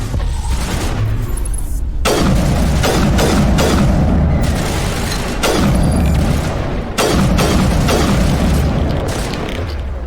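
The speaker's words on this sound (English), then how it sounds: "Let's see if we can do a singularity over there." Biotic singularity power and combat in the Mass Effect video game produce a loud, continuous barrage of heavy booms and blasts, with several sharp impacts punctuating a dense, rumbling roar.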